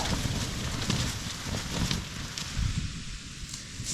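Strong wind buffets the microphone in a constant loud roar, with gusts swelling and easing over rustling outdoor noise, at a campsite in southern Portugal.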